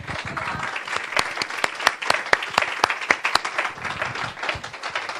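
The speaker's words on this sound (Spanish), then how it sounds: "Dale un aplauso al Señor." A church congregation claps and applauds during a Spanish-language worship service, a dense burst of sharp overlapping hand claps that swells and holds for several seconds, close and lively.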